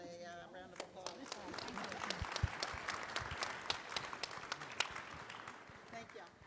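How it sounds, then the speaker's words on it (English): An audience at a gala and awards banquet applauds a panel, a dense steady round of clapping with sharp individual claps over murmuring, and a voice speaks over it. "let's give our panel a round of applause"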